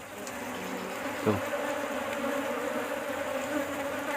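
Honey bees at an opened hive during a honey harvest, somewhat aggressive, buzz in a steady, dense drone close by, with a brief louder buzz passing near at one point and a short spoken word.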